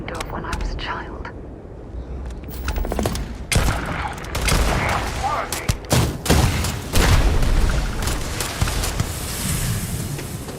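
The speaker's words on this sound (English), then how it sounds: "Man threw a grenade at me at point blank range." A grenade blast at point-blank range and bursts of gunfire in the space game Starfield, with loud booming impacts and rattling shots layered over a dense combat mix.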